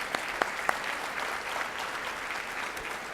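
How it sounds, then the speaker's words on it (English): An audience at an international convention for English teachers applauds its international speakers; a few sharp early claps give way to a soft, even wash of clapping from a crowd, fairly distant and sustained. "an applause for all our international speakers here"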